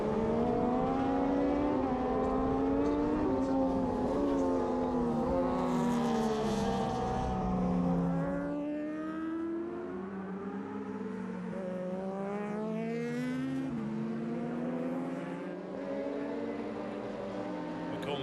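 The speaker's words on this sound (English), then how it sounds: "that's Erik Jus on the Borg Jus Racing Yamaha" Yamaha racing motorcycles at the Imatra road races scream past on a street circuit, their high engine notes sweeping up and down as they pass, loud at first and fading into a more distant whine.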